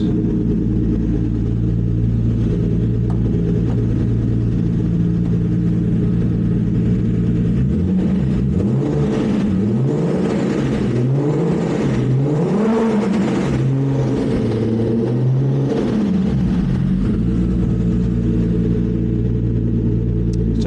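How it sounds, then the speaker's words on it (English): A turbocharged VR6 engine in a Mk5 Golf R32 with a DQ500 gearbox idles with a low rumble, then revs lightly several times in a row before settling back to idle; no one speaks. "Give it some light revs."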